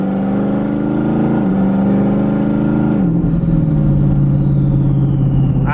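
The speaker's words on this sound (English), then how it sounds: "the turbo noises on this thing are pretty sick" A twin-turbocharged Mustang engine drones steadily, its pitch stepping down in stages as revs fall, with a whistling turbo tone that sweeps downward over the rumble.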